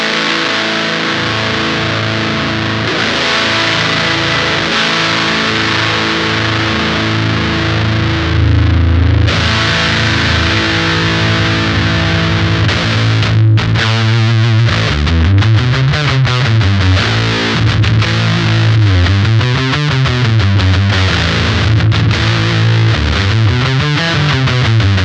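Electric guitar through an LBF Pedals Fuzz Cauldron fuzz pedal, a thick sustained fuzzy chord giving way to heavy bass-boosted riffs with deep wobbling low end, loud and close with no voice.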